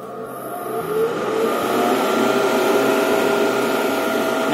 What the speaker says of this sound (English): let you see the variable speed motor kicking in